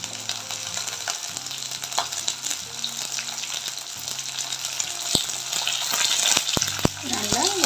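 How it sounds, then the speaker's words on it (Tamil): Brinjal and onion with green chilli and whole spices sautéing for brinjal kurma, a continuous sizzling fry with a spoon scraping and stirring through the pan and a few sharp clinks toward the end. "நல்லா வதங்கி வரட்டும்"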